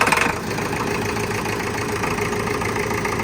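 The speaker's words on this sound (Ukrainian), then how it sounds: "Ось двигун працює рівно." A heavy diesel engine of a YTO NLX1054 tractor, freshly overhauled, idles steadily up close, a rough, even chugging rumble with no speech over it.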